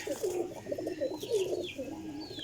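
Several pigeons coo in soft, rolling phrases close by, a continuous low chorus with faint chirps and twitters higher up.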